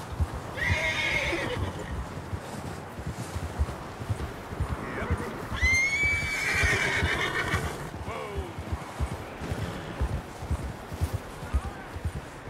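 In Red Dead Redemption 2, a horse neighs loudly twice while its hooves clip-clop steadily underneath, and someone says a brief word.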